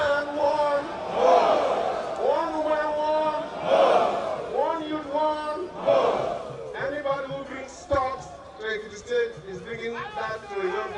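A mammoth crowd at a Nigerian political rally roars and chants in loud, surging waves of massed voices, rising and falling in rhythmic bursts throughout.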